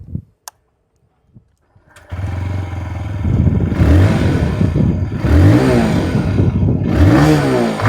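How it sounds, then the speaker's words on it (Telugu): A TVS Raider 125 single-cylinder 125cc motorcycle starts up after a few clicks, then idles and revs repeatedly, its engine and exhaust note rising and falling loudly and close by with no talking. "ఒకసారి ఇంజన్ సౌండ్ అలాగే ఎగ్జాస్ట్ నోట్ విందాం."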